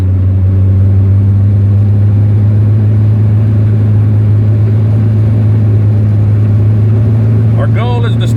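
A 1970 Triumph Spitfire on the road, its engine a loud, steady low drone that holds without pause, with a short vocal sound near the end.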